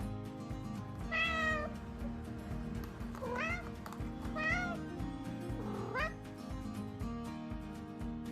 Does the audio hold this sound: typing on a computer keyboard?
no